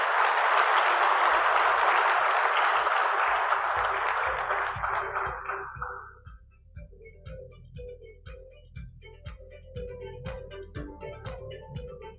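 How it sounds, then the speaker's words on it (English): A conference crowd applauds loudly for several seconds, then the clapping fades out, leaving scattered soft taps and a low rhythmic thumping. "Let's give him a round of applause as he comes to stage."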